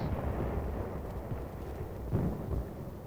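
A barrage of 4.2-inch heavy mortars fires in a wartime hill offensive, heard as dull, distant booms rumbling through a constant low roar, muffled and fairly faint.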